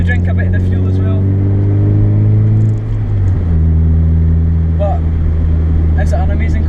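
A Mazda MX-5 with a stock 1.8 engine and an aftermarket exhaust idles close by with a loud, deep droning burble that dips briefly midway, while someone talks over it.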